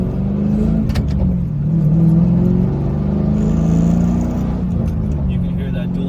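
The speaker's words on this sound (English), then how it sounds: "You can hear that dual exhaust coming out the back." Steady low engine drone of a 2000 Pontiac Trans Am WS6 driving, its dual exhaust note rising and falling slightly as it cruises.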